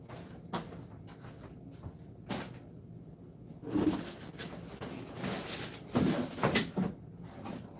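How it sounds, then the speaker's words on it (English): Door opened indoors, with a few knocks and a creak-like scrape spread over several seconds, moderately close amid a quiet room hum, no one talking. "Somebody open my door."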